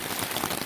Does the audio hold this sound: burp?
no